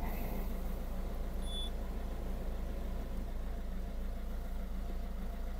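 A Citroen C3 1.6 HDi diesel engine idles steadily after a restart, a constant low rumble held at an even level throughout with no talk over it.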